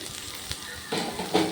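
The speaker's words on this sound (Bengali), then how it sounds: "এইবার আমি সবজিগুলি দিয়ে দেবো সবজিগুলি ভেজে নেবো" Vegetables fry in a pan for poha pulao, a soft steady sizzle that swells louder partway through as pieces are stirred in, close and without speech.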